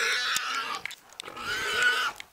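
A wild boar weighing over 200 kg, attacked by hunting dogs during a Samcheok, Gangwon culling operation, gives harsh, loud, raspy squeals and grunts in two broken bursts close by.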